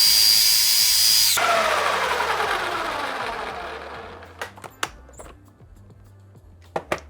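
A small electric food chopper whirs loudly on onion for about a second, then spins down in a falling whine, followed by a few light knocks and taps of the container, close by.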